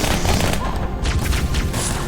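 Gunfire in the video game Halo 2, a dense, continuous barrage of booming shots and thuds layered over game noise, loud throughout with no clear gaps.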